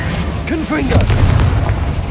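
A Confringo blasting spell erupts in Hogwarts Legacy, a loud booming explosion with a rumbling, crackling tail that fills the space, overlapped by a voice briefly.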